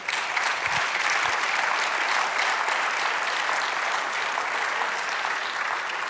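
A church congregation applauds the Lord during a sermon, steady dense clapping filling the whole stretch at an even level, with no voices standing out over it.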